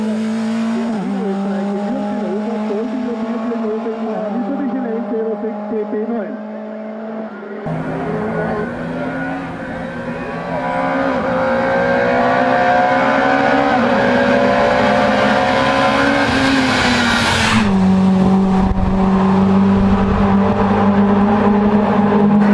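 A Mitsubishi Evo 9 rally car, Group A over 2000 cc, races up a hill climb at Hofstätten, its engine roaring loud and close, revving and climbing in pitch through gear changes with brief tire squeal.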